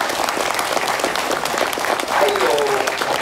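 Audience applause at a Cambodia team company event, steady dense clapping from a crowd honouring the company and manager, with some voices speaking over it.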